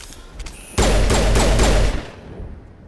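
Automatic gunfire in the video game Mass Effect erupts as one loud, rapid burst of about a second, sharp and close, followed by a fading tail.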